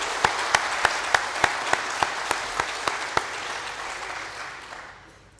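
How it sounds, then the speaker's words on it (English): A crowd at the inauguration of a green hydrogen site in Namibia gives a round of applause for the King. Steady clapping carries a few sharp, evenly spaced claps from one person near the front, and the whole sound tapers away. "Please give the King a big round of applause."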